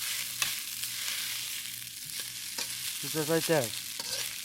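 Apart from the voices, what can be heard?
salmon fried rice frying and being stirred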